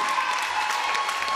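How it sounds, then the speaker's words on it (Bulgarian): An audience at a children's concert breaks into applause, a short, steady, fairly loud burst of many hands clapping, with a sustained musical tone ringing underneath. "Аплодисменти!"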